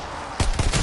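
A gun in the game Call of Duty Cold War fires three quick, loud shots in close succession, about a fifth of a second apart.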